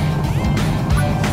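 Cartoon space vehicles zoom past in quick whooshing swells over a dense engine-like rumble, close and fairly loud, in a short burst of busy traffic.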